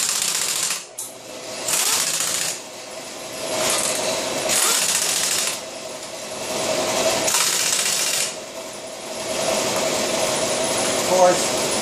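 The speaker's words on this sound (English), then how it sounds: "I'm going to put my gun on forward. I'm going to tighten up my bolts." An impact gun tightens the wheel bolts on a 2003 Ford Explorer in a star pattern: a series of loud, close buzzing rattles, each about a second or two long, separated by short pauses.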